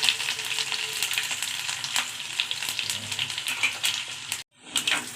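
Garlic and curry leaves crackle and spit in hot oil with mustard seeds for a tempering, a busy close sizzle with sharp pops, cut off briefly before resuming.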